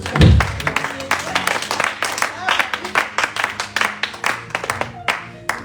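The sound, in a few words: congregation applauding in church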